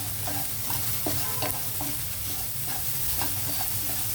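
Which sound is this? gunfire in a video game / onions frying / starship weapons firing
onions frying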